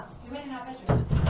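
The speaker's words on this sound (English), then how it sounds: "Mate, is he headbutting the door?" A dog headbutts a door in a house, producing a sudden dull thud and rattling knock after someone speaks briefly, with a second bump following close behind.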